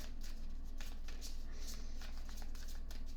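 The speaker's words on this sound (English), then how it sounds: "I just like to shuffle the cards, guys, so just ignore that, okay?" Tarot cards being shuffled by hand, a quiet run of rapid riffling and soft flicks repeating through the whole stretch over low background hum.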